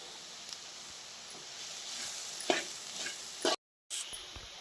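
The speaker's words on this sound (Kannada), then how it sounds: "ಈಗ ನೀರುಳ್ಳಿ ಫ್ರೈ ಆಗಿದೆ." Onions and masala fry in a pan while being stirred, a soft steady sizzle with scraping stir strokes and a few louder clinks, close by, followed by a brief cut to silence.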